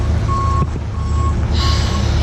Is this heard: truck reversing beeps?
yes